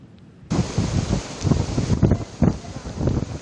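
Strong gusting wind and rain during Typhoon Pepito in Catarman, Northern Samar, a roaring broadband rush that kicks in abruptly and surges in repeated loud buffets against the microphone.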